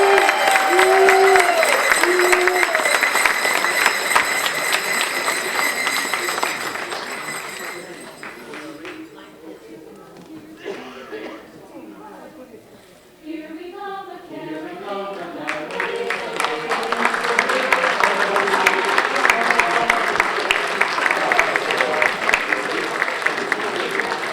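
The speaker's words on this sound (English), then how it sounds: "give a big round of applause for the voices" An audience at a Rotary senior holiday luncheon gives a high school choir a loud round of applause and cheers, fading in the middle under a spoken voice, then swelling again into sustained clapping.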